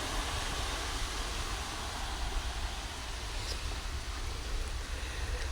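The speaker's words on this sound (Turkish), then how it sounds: "Damlalarına kurban olayım ben bu yağmurun." Steady rain falls as a soft, constant hiss, fairly faint and unbroken, with no voices.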